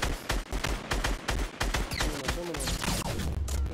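Gunfire in a Fortnite squad match: a rapid string of sharp, fairly close shots in quick bursts, followed by whooshing effects and a low rumble near the end, with some game sounds layered underneath.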